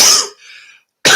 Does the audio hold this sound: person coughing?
yes